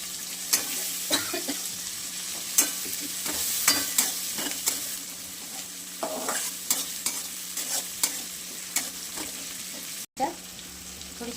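Green chillies and garlic frying in hot oil: a continuous crackling sizzle with regular spatula scrapes and clicks against the pan, up close, and no speech.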